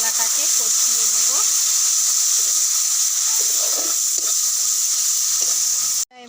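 Coconut milk masala with ground coriander and cumin bubbling and sizzling steadily in a pan, a loud continuous hiss throughout with a few clinks of a utensil, cutting off abruptly at the end.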